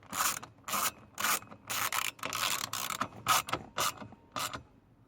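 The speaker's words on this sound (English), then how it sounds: "I'm going to take this ratchet, put it on, I'm going to tie this down" A ratchet is worked in short bursts while tying something down during a cabin air filter replacement on a 2004 Honda Odyssey, with about ten quick rasping clicking strokes separated by brief pauses, close and fairly quiet.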